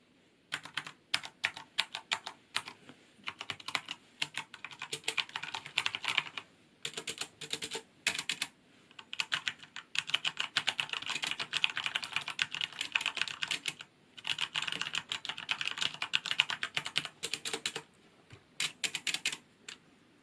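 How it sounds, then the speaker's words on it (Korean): Steady typing on a Corsair K70 LUX RGB mechanical keyboard with Cherry MX Brown switches, dense bursts of tactile key clacks with brief pauses, close and clear, with no voices. "간단한 타건음을 들려드리도록 하겠습니다."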